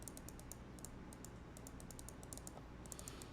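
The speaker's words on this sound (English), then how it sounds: "Man, I'm clicking." Rapid clicking runs steadily during play of a video game, many quick light taps in irregular bursts, faint and close, over a low constant background hum.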